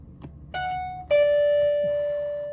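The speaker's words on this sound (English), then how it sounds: "That bell is loud." A two-tone ding-dong doorbell chime rings loud and close, with a second ding sustaining and slowly fading.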